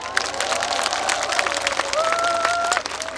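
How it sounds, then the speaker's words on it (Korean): Festival crowd at an outdoor flower festival claps and cheers for a trot duet, dense applause with a few whoops, while a faint tonal sound rings briefly near the end. "박수 한번 부탁드리겠습니다."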